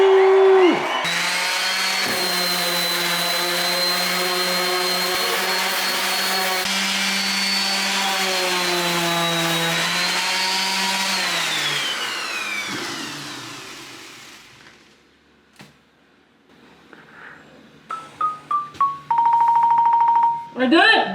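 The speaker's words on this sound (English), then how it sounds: "I'm sanding the last trim piece." Power sander working on a wooden trim piece indoors during a home renovation, a loud steady whine with shifting pitch that runs about twelve seconds before winding down, followed by scattered knocks and a voice.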